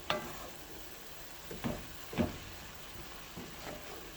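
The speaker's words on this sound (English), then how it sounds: "my greens are still sauteing" Greens sauteing in a skillet with smoked paprika stirred in, a soft steady sizzle with a few louder stirring scrapes spaced through it, heard close and fairly quiet.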